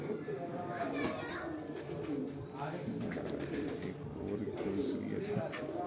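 Pigeons cooing in a loft in Dharampura, Lahore, soft repeated low coos with bird calls and children's voices in the background, while someone talks over them.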